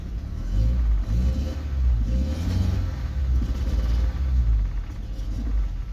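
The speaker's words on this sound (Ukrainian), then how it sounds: "Нажимаю на газ." A Mercedes E190 engine on a cold day rumbles close by as the gas pedal is pressed, its low drone swelling and easing in uneven surges without ever reaching a sharp rev.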